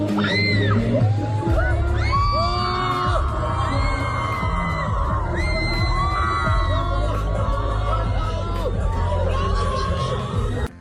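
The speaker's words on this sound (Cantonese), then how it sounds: "現場唔只有尖叫聲，連男粉絲都忍唔住大叫好靚仔" Fans scream and cheer at a McDonald's gala dinner as a singer makes a surprise appearance, a dense, loud wall of shrieks, whoops and crowd noise that carries on for the whole stretch.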